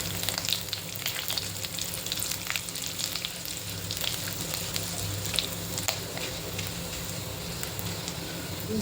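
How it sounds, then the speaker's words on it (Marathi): Cumin seeds crackle in hot ghee in a kadhai, a continuous dense fizz with many tiny pops, steady and close, with no voices. "जिरं चांगलं तडतडलंय"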